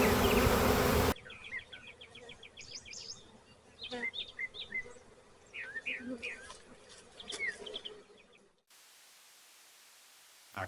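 Honey bees from a captured swarm buzz and drone in brief overlapping bursts, close and moderately loud, mixed with faint bird chirps, after a loud opening rush of noise.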